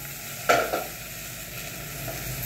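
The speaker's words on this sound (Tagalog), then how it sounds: "so ilagay na natin itong ating tokwa" Tofu dropped into a pan of sautéed garlic and onion, with a sharp sizzling burst followed by a second smaller one, then steady frying hiss.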